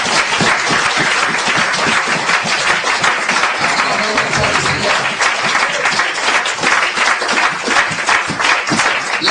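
A church congregation applauds loudly and steadily throughout, dense continuous clapping filling the space with no break.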